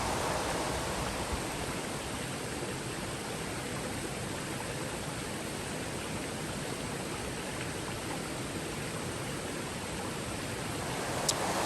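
Steady, unbroken roar of Nantcol Waterfalls in Snowdonia, Wales, a dense rushing wash of water that stays constant and loud throughout.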